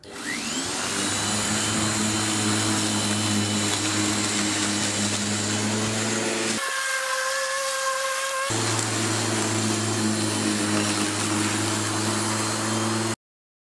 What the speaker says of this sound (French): Une tondeuse 1600 watts.